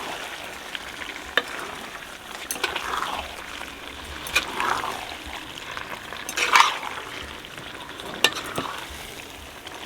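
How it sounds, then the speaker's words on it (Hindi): Chicken liver (kaleji) is stirred in a pot, with soft sizzling and intermittent scraping clinks of the spoon, moderately quiet and without speech. "अच्छी तरीके से हमने मिक्स कर लिया"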